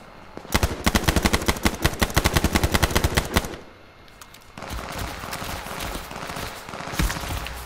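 Rapid automatic gunfire from a weapon in a sniper video game, a fast burst of sharp, evenly spaced shots lasting about three seconds, then a pause followed by a lower, steadier rumble of game noise.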